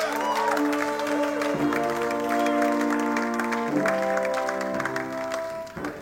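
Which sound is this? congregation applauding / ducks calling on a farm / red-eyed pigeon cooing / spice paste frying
congregation applauding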